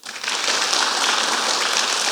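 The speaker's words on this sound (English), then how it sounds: "A round of applause to each one of you for making this happen." A dense round of applause fills a hall at a Golden Jubilee celebration, broad and sustained clapping from a large audience, steady and loud throughout.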